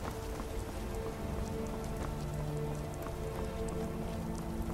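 Steady rain pours throughout an outdoor scene in the virtual reality game Skyrim VR, a dense, even patter on the ground with a low ambient hum beneath and no voices.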